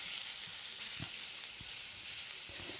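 Pork binagoongan sizzles steadily in a pan while a spoon stirs through it, a constant hiss of frying with a few soft scraping knocks, close and without talk.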